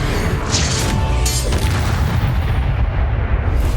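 A Confringo blast spell in the video game Hogwarts Legacy, a loud booming explosion that bursts early and then rumbles on as dense, sustained noise through the rest of the moment.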